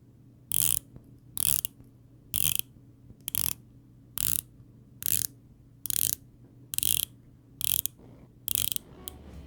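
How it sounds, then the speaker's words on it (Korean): Crisp ratcheting clicks from the 120-click unidirectional rotating bezel of a Debert homage to the Omega Seamaster 300 dive watch, coming in about ten short, evenly spaced bursts, close and clear over a quiet background. "120클릭의 단방향 회전 베젤이고 베젤 테두리의 마감 역시 상당히 좋습니다. 움직이는 감각이나 이 소리도 아주 경쾌하고요."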